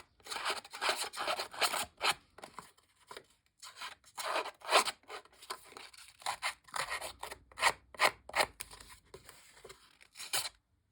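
Scissors blades scrape and rough up the edges of a paper tag in a close, repeated series of short rasping strokes, with brief pauses between bursts and no talking.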